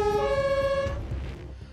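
An ambulance siren arriving at a car-versus-van accident scene sounds briefly: a loud, steady electronic tone for about a second that then cuts off, leaving a low vehicle rumble.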